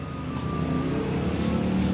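A Toyota Starlet race car at a racing weekend in Port-sur-Saône, engine note droning loud and close as it drives past, with no voices over it.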